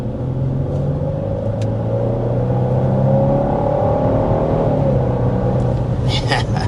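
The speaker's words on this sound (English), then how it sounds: "This obviously is, a pretty sporty SUV, and when you put your foot down, you do get an immediate response." A 2025 Genesis GV70 SUV accelerates hard, heard from inside the cabin as a dense, steady engine rumble and road roar whose tone climbs slowly and stays loud throughout.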